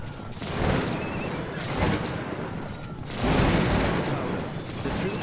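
Musket volleys from Prussian musketeers in the battle game Cossacks 2 crackle as dense, rolling bursts of massed gunfire, swelling and fading in several waves amid continuous battlefield noise.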